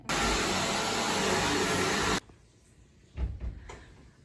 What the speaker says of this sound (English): dust quick, and vacuum it